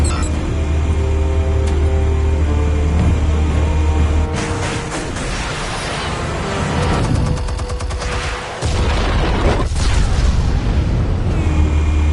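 Loud, sustained in-game explosions and booming blasts in Batman: The Telltale Series, with rumbling detonations and crackling debris rolling continuously across the scene, no talking.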